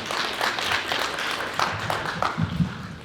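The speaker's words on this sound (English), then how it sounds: "Won't you give yourselves a round of applause tonight for being here?" Audience at a school district signing day for seniors clapping in a round of applause, a moderate scattered patter of hands that stays fairly even over three seconds, with faint voices underneath.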